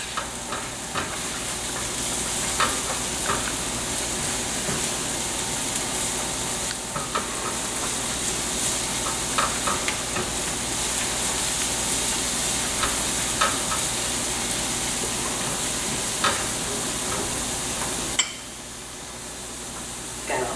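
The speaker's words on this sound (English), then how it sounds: "Garlic only has to cook about 30 seconds to a minute." Garlic sizzles and hisses steadily in a frying pan, with scattered clicks and scrapes as it is stirred, ending in a quieter, softer sizzle.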